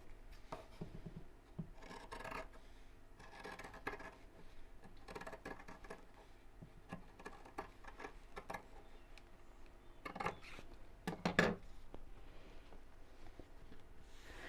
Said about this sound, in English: I'm going to cut through all layers along that line.